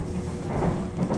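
A passenger train heading to Chujeon, a high mountain station in Korea, rumbles steadily along its rails, a continuous low roar heard from inside with no pauses.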